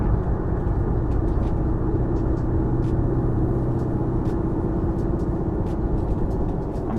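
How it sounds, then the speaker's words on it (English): A 1999-2004 Ford Mustang engine droning steadily from inside the car while slowing through downshifts, a continuous low rumble with no clear rev changes standing out. "I'm gonna do some downshifts now as I slow down"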